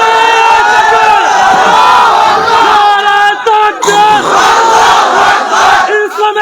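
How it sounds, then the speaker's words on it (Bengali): Large crowd at an outdoor religious mahfil shouting takbir in unison, loud and close, a sustained chanted roar that breaks briefly midway and then swells again into another collective cry. "দেখি তাকবীর দেন তো দেখি।"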